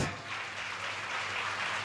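Spiritual-discourse listeners applaud during worship of the speaker's seat at a Shrimad Bhagavat katha. The clapping is a soft, steady, distant wash that continues evenly throughout.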